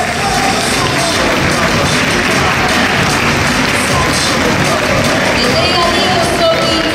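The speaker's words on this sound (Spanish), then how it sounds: "Fuerte el aplauso." Strong applause from a crowd at an athletics award ceremony, a dense, loud and unbroken wall of clapping with a babble of voices mixed in, steady for several seconds.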